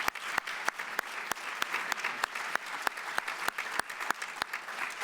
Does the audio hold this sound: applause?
yes